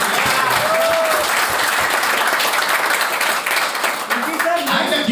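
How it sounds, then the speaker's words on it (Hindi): Loud, dense applause and clapping from an audience at a live speech event in Ahmedabad, a steady roar of hands sustained for the full five seconds, with faint voices mixed in. "एक बार जोरदार क्लैपिंग।"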